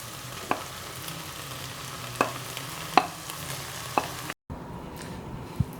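A spoon stirs a sprouted green gram mixture in a frying pan, giving a quiet, low sizzle under a series of sharp scrapes and taps against the pan, spaced roughly a second apart.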